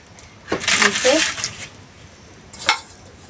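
Small fish laid in a leaf inside a frying pan sizzle in two bursts of crackling hiss, close and fairly loud, with quieter gaps between.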